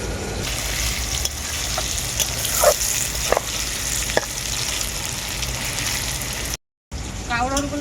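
Kakrol (spiny gourd) pieces frying in hot oil in a pan, a continuous crackling sizzle with a few sharper pops and stirring scrapes, briefly cutting out near the end.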